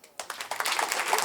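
Audience applause at a French stand-up comedy show, scattered claps building quickly into a brief burst.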